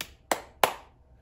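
Two sharp hand claps, about a third of a second apart, each ringing briefly in a quiet room with no talking.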